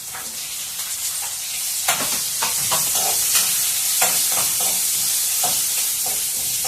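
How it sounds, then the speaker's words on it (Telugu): Onions sizzle and fry in a pan with asafoetida while making Telugu-style tomato dal, a steady close hiss with scattered sharp crackles and stirring scrapes throughout, no voices. "కొంచెం ఉల్లిగడ్డలు కొంచెము వేయించాము"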